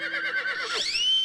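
A horse whinnies loudly and close in a Hindi children's show, a quavering neigh that ends in a rising squeal, heard alone without talk.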